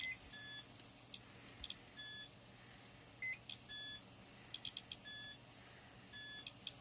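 Short high-pitched electronic beeps from an appliance, repeating in small clusters over a quiet background hum.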